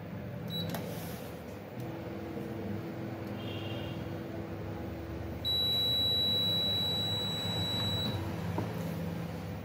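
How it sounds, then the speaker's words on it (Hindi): An Erba semi-automatic biochemistry analyzer gives off a few short electronic beeps and then a longer steady tone, heard clearly above low room hum with no talking. "जब तक बीप की आवाज नहीं आती है तब तक वाटर को नहीं हटाया जाता है।"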